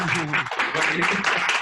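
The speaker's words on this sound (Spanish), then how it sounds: "pues un aplauso, por favor" An audience claps steadily throughout a short stretch after a talk on data and visualization, with voices mixed in under the applause.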